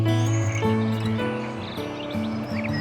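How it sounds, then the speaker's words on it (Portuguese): Several birds sing and chirp in an outdoor natural setting, bright warbling calls overlapping at moderate distance above a soft continuous background murmur, with no voices. "E o que dizer do canto harmônico dos pássaros, que enche de alegria o ambiente"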